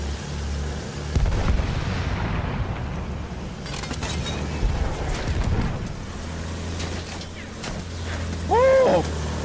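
Heavy booming explosions from a bombing run in a video game, deep rumbling blasts rolling over engine drone, followed by a rising whine near the end.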